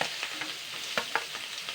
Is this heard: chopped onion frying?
yes